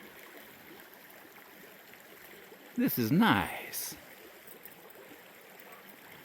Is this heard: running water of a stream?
yes